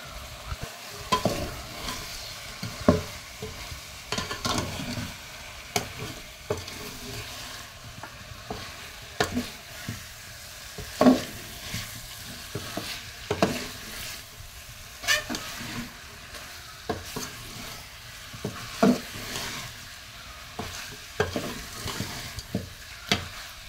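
Homemade red chili masala stirred into a sizzling curry for a bright red rassa: a soft, steady frying sizzle broken by repeated spoon scrapes and stirs, fairly quiet, no talk.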